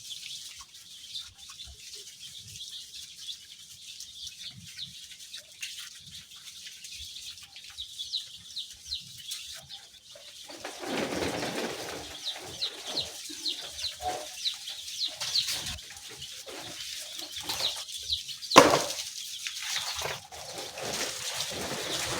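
Seven hundred four-day-old layer chicks in a brooder cheep and peep in a dense, continuous chorus, with occasional wing flutters and a louder burst of activity partway through.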